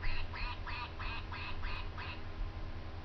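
A toy duck gives seven evenly spaced, clear quacks in a steady rhythm, close and loud over a low background hum, with no talking.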